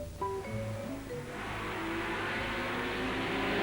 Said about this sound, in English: Parks comes up to the line on the red or East Berlinetta Ferrari